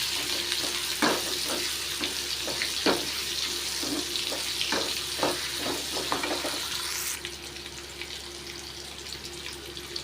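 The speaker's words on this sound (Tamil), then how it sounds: "இது எண்ணெயில் கொஞ்சம் வதங்கட்டும்" Sour raw mango pieces sautéing in oil with fresh curry leaves for a mango kuzhambu, a steady frying hiss with scattered sharp crackles and pops, a few near stirring clatters, then a softer, smoother sizzle near the end.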